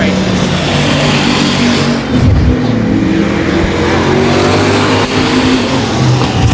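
Race cars roar around the 281 Speedway track during a feature race, a continuous loud engine drone with passing surges, while a voice talks faintly underneath.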